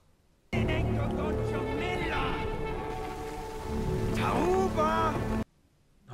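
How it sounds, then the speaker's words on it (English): Steady rain-like wash with low rumbling, thunderstorm sounds from House of the Dragon season 1 episode 10 blended with voices and tonal sounds, fairly loud throughout. "All that thunder and rain."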